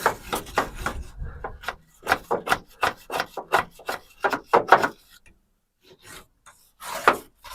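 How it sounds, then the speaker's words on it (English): A wire wheel scrubbing the frame of a Mazda B2500 truck, heard as a series of close, rough rasping bursts in an irregular rhythm that stop near the end before one final burst. "And then let's get to wire wheeling this."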